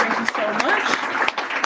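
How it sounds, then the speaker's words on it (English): An audience at an evening talk program claps, the applause sounding moderately loud and fairly short, with a voice speaking over it. "let's give a round of applause for them as well"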